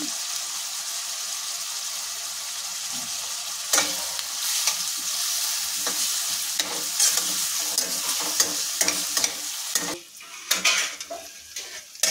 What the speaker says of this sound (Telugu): దీంట్లో త్వరగా వేగిపోతాయి ఉల్లిపాయలు సాల్ట్ వేస్తేనే.